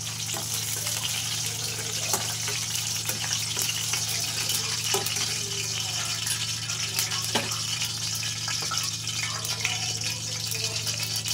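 Ridge gourd pieces fry in a pan with a steady, close sizzle and bubbling hiss that runs without a break and stays at an even level, with no voices over it.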